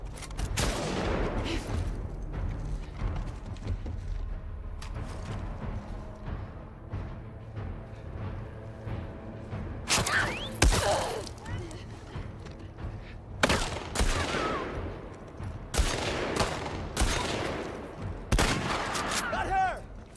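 Rifle fire in The Last of Us Part 2 Remastered, several sharp loud shots spread through a busy combat mix, with talking over parts of it.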